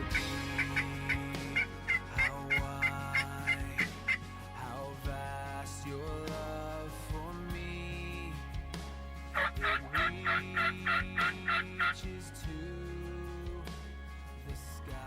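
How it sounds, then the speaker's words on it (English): Wild turkeys gobble from their roost in a low bottom before daylight, repeated bursts of loud rattling gobbles in two clear clusters, with other birds calling around them. "roosting turkeys."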